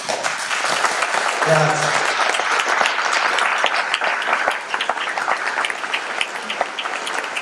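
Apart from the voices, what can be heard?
audience applause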